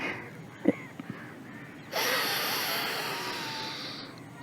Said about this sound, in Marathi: पुन्हा सोडलेला नागपुडीनं श्वास परत घ्यायचा आहे